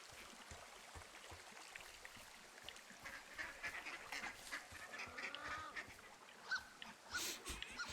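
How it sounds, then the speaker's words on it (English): Ducks quacking in Firewatch, a run of scattered nasal quacks and honks over faint outdoor ambience, growing busier and louder toward the end. "There's one duck sound that sounds like it's being made by just a dude."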